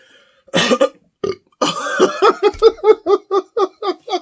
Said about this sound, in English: He burps.